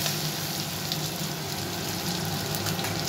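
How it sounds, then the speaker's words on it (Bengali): Ginger fries in hot oil for a fish curry, giving a steady, dense sizzle and crackle that holds at an even loudness from start to finish with no talking. "এইবারে ও আদাটা দিচ্ছে কষানোর জন্যে, আদা কষানো"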